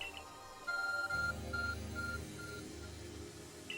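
An Arc Phone in the Pokemon Legends Arceus video game plays a sequence of short electronic tones to open a gate, several evenly spaced beeps over a low musical background.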